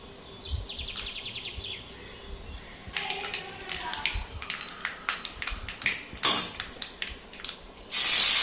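Mustard seeds and urad dal crackle in hot oil in a home kitchen, sparse sharp pops building into a denser spitting sizzle, closing with a loud burst of hiss.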